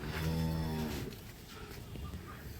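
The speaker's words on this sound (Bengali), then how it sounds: "ক্রস জাতের খামার উপযোগী সার গরু দেখছি" Crossbred cattle low and moo loudly at a village cattle market in Dinajpur, one long harmonic call at the start fading into a busy background of market noise and distant voices.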